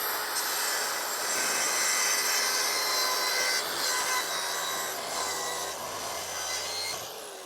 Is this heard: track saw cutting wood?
yes